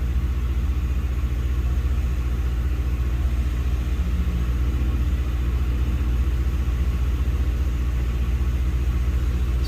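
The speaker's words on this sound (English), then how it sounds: "I'm gonna let it sit here and idle for a second." A Ford Crown Victoria P71 engine idles steadily, slightly high, a constant low rumble with no breaks, close and fairly loud throughout.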